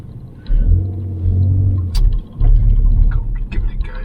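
A Ford Focus ST Mk4 engine rumbles low and close while the car is being parked, a steady idle drone that swells and dips with a few light clicks, with no talking.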